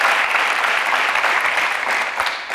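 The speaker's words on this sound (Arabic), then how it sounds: "واحدة أخرى تصفيقة أخرى هذه" Steady applause from a studio audience on a Tunisian television comedy show, continuous clapping throughout without pause.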